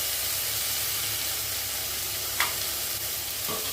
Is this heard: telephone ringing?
no